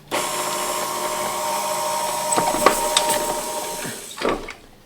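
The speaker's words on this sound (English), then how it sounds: "I'm going to put the paddle attachment on the stand mixer and give it a whirl." A stand mixer with a paddle attachment creams butter and brown sugar in the mixing bowl, a steady close motor whir with a high whine and faint scraping clicks, running alone without talk.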